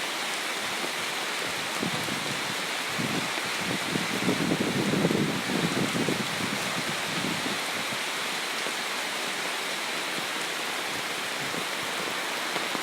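Rain falling in Wang Nuea district, Lampang, with wind stirring banana leaves in a backyard garden: a steady, dense hiss throughout, with a fuller rushing swell near the middle.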